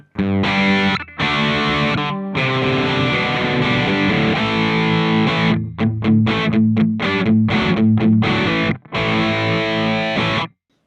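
Crunchy distorted electric guitar on the rear pickup through a Valeton GP-5 amp modeler, long sustained chords giving way to rapid staccato stabs, loud and upfront with a bright, biting tone.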